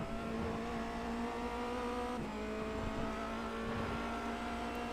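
Formula Renault race car engine at full throttle around Silverstone in iRacing, a sustained high-pitched engine whine with a steady tone, one brief blip as it shifts, fairly quiet and alone without talk.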